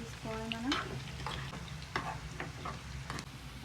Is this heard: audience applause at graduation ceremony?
no